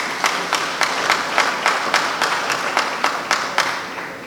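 An audience at a community gathering gives sustained applause, a dense steady patter of many hands with a loud, even rhythmic clap emerging on top about every quarter second, continuing throughout without speech.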